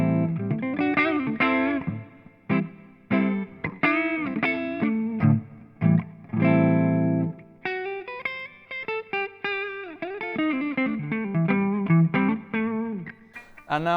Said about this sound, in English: I'm just going to put the dark switch on so you can hear what that sounds like.